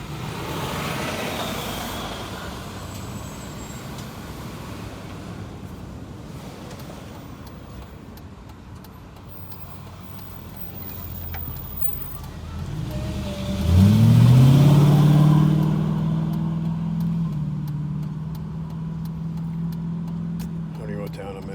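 A car pulls into a roadside gas station off Interstate 40 in North Carolina, its engine rising to a loud, close rumble midway through, then settling into a steady idle over low background traffic noise.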